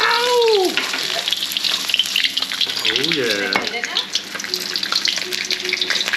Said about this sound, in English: pour the hot oil in